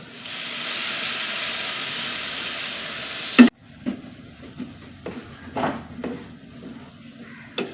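Cooked horse gram seasoned with chilli powder goes into a hot pan: a steady loud sizzle for about three seconds cuts off sharply, followed by softer intermittent bubbling and scattered clicks and stirring knocks nearby.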